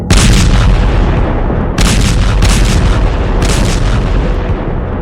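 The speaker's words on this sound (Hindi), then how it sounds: "अमेरिका इजराइल के कई बम बुशर में फटे हैं" Bomb explosions near Iran's Bushehr nuclear plant: heavy, deep booming blasts roll continuously, loud and close, with renewed bursts every second or so layered over a constant rumble.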